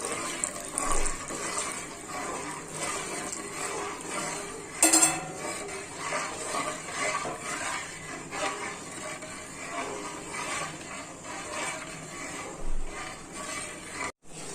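Coconut milk, the last extract blended in a mixer, pours into a pot of Kerala-style jackfruit payasam, a steady wet, splashy rush with faint clinks of utensils throughout.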